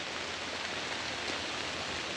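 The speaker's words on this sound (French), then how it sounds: "Bah, il pleut fort." Heavy rain pours steadily in a Laurentides forest, a dense, even hiss of drops on leaves and ground with no break, close around and alone without voices.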